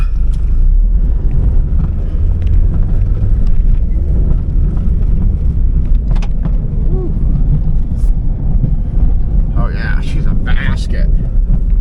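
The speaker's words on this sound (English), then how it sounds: "But it runs and kind of moves even though the brakes are locked up." A 1999 Mazda Miata at an auto wrecking yard, engine running while the car creeps with its brakes locked up, gives a steady low rumble under constant wind buffeting on the microphone, with faint knocks and higher scrapes toward the end.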